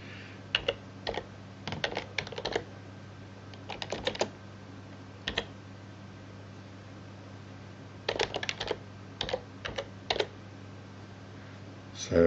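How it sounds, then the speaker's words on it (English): Computer keyboard being typed on while entering Python code, heard as short clustered bursts of soft clicks separated by pauses over a low steady hum. "I can type some Python code."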